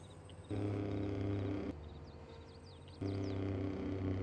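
Truck engine in a trucking game rumbling steadily with a low droning tone, louder for stretches and dropping back in between, with faint chirpy background sounds.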